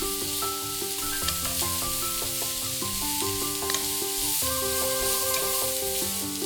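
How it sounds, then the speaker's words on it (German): Fennel strips sizzle and fry briefly in a pan with a constant hiss, while steady background music plays throughout. "Fenchelstreifen in die Pfanne geben. Kurze Weile braten."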